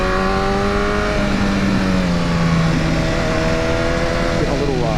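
A 2015 BMW S1000R motorcycle engine droning loudly and steadily while riding on a wet road, pitch shifting gently with RPM, under a rider's speech.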